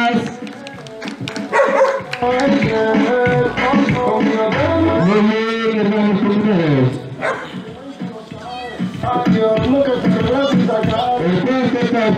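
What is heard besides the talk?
dog barking at costumed pet parade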